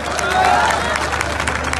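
Crowd at an Indian election rally applauding and cheering in a loud, continuous wash of clapping and babble, close and dense throughout.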